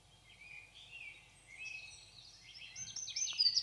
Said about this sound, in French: Donc là, c'est une grive draine